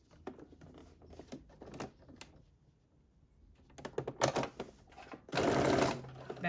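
A sewing machine back stitches on a sweatsuit in short uneven clicks and bursts, ending in a loud continuous run of stitching.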